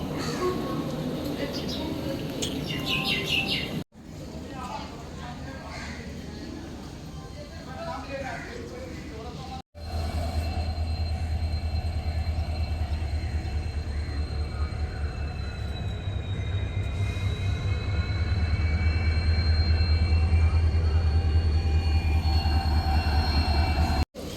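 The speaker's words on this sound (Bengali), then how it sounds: "এই যে এনজিপি স্টেশনে ঘোরাঘুরি করছি, আর এই যে বন্দে ভারত ট্রেন দাঁড়িয়ে আছে" A Vande Bharat train standing at NJP station: a steady low rumble with faint wheel and brake squeals, loud and close, with a couple of abrupt cuts in the sound.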